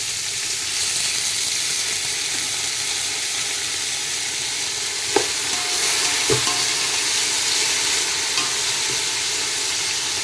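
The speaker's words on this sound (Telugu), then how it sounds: "ఇప్పుడు మనం ఆనియన్ వేద్దాము." Onions fry in hot oil with garam masala, a dense, continuous sizzle and crackle with occasional soft knocks of a utensil against the pan. The sound is close and steady, with no talking.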